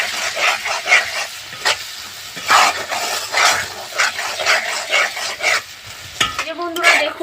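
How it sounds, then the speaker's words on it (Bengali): Garam masala with coriander and cumin spices fries in a pan, loud sizzling broken by repeated rhythmic stirring scrapes, close and busy throughout, with a dog-like bark or clatter near the end. "মশলাটা আমি খুব ভালো করে কষিয়ে নিয়েছি"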